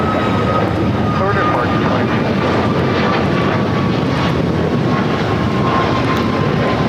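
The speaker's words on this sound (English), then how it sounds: "This is United Airlines 2047 taking off to Las Vegas on the MAX 8." A United Airlines Boeing 737 MAX 8 takes off at LAX, its engines a loud, steady roar holding throughout, with a thin whine riding over the broad rumble and people talking underneath.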